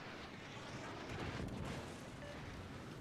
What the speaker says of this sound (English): I guess that's the Summers firing at us now